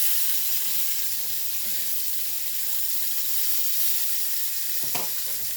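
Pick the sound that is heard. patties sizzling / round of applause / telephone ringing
patties sizzling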